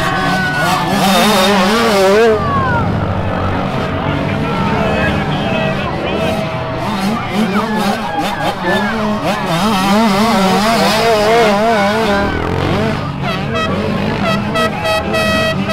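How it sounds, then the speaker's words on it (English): Pit bikes race in the dark on a Friday night, their small engines revving and whining up and down loudly and close by, with shouting voices over the engine noise. "riding dirt bikes in the dark"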